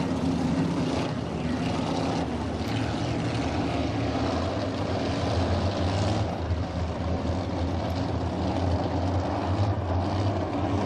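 Crate sprint cars in a heat race on a dirt oval, engines roaring steadily and loud throughout as the pack circles the track, with a continuous dense drone and no pauses.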